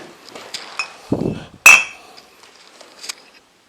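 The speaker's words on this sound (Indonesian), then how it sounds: "ada botol minuman coy." A glass liquor bottle, apparently red wine, clinks and knocks as it is handled among clutter in an abandoned luxury house, with a few sharp close taps and one loud ring-out amid quieter rattling.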